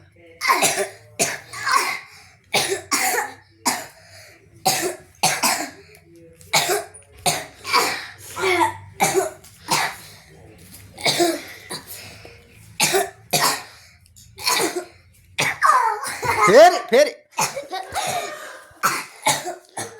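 A child coughs repeatedly in short bursts, close by, with brief spoken words and throat sounds mixed in near the end.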